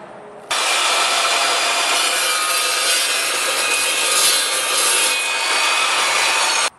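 An Evolution EVOSAW380 chop saw cuts through a hard steel rod, a loud, steady grinding whine that starts abruptly and runs without a break for several seconds before it cuts off.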